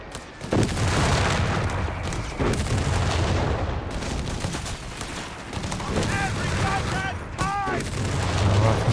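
Heavy mortar barrage in Company of Heroes 3, a 2v2 match: dense, continuous rumbling booms and bursts of gunfire fill the scene loudly, with a voice talking over the battle throughout.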